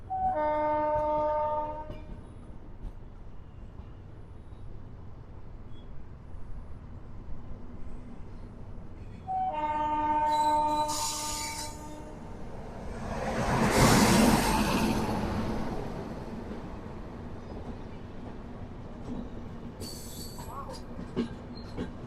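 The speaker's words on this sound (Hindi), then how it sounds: "KSR बेंगलुरु चेन्नई सेंट्रल, शायद ये लाल बाग एक्सप्रेस है।" Lalbagh Express, a KSR Bengaluru to Chennai Central train, passes near the Yelagiri hills, heard from a moving train: a loud multi-tone horn blast, then a second, a rising rush of rolling wagons, and wheel clatter continuing.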